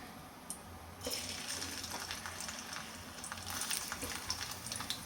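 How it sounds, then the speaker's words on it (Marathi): Moong dal frying in hot oil in a kadai, a soft, fairly quiet sizzle that swells after the first second and crackles on steadily, with no voices. "आणि ही आता मुगाची डाळ आहे ना आपल्याला ह्याच्यामध्येच टाकायची, तेलामध्ये छान परतून घ्यायची."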